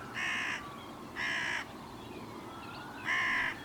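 A hooded crow caws three times on a morning in the field, harsh, loud calls spaced a second or more apart, with a quiet outdoor background between them.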